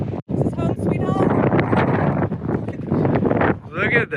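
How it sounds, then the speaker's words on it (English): Loud, blustery wind in Palo Duro Canyon buffets the microphone in uneven gusts, with a person talking over the roar. "It's windy out here."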